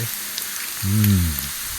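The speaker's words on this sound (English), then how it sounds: "Threw that into a skillet with some olive oil to fry." Constant crackling sizzle of thick-cut bacon frying in olive oil in a hot skillet, with a low voice murmuring briefly over it midway.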